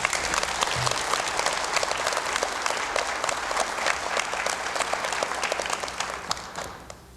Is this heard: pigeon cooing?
no